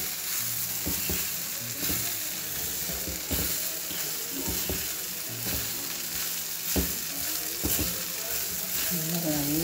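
Crumbled idli being stir-fried with onion masala in a pan, a steady sizzle under repeated scraping and clanking strokes of a spatula against the metal, with no one talking.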